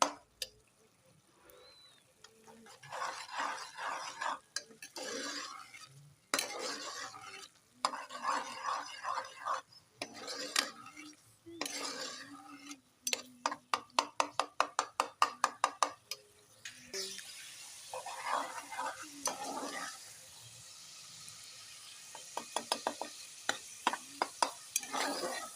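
Marinated chicken karahi is stirred in a pan over high heat, with bursts of scraping and clattering strokes between softer sizzling stretches, including a run of quick rhythmic scrapes and a loud frying hiss later.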